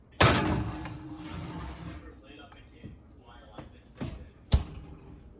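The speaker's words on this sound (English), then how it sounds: "I'm gonna open up this oven," An oven door swings open to take a hummingbird cake pan, with a heavy thump at the start, a few softer clunks, and a sharp knock near the end in a home kitchen.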